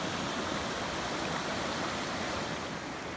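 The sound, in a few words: creek water flowing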